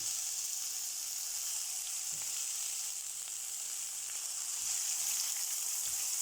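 A macaroni and saltfish mixture goes slowly into a hot pan, and a loud, even hiss of frying carries throughout at close range. A few faint scrapes are heard under it, and nobody speaks.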